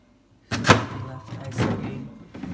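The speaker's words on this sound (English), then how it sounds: "Freezer drawers." Freezer drawers of a refrigerator in an apartment kitchen being pulled open and pushed shut, two close thuds with a sliding rumble between, loud and near.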